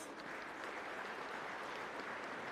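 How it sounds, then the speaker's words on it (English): Crowd at a foundation day celebration gives a round of applause, a faint, dense, even patter of many hands clapping throughout. "Please give them a round of applause"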